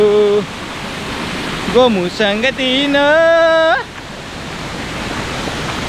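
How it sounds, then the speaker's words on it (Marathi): Constant rushing roar of a waterfall fills the background while a voice calls out loudly over it for a couple of seconds. "हा पहा त्या धबधब्याचं पाणी"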